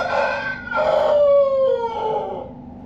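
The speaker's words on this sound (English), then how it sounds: "can I hear a rooster? And I can." A single rooster crows once from inside a box, rising then trailing off, somewhat muffled as if enclosed, over a low steady hum.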